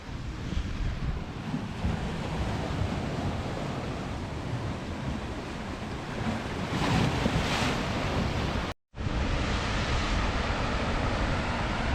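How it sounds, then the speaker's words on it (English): Large sea waves pound the rocky Scottish coastline in a continuous heavy roar of surging, crashing water, mixed with gusting wind buffeting close by, broken by one brief cut. "See the quantity of water and the force of these waves, folks."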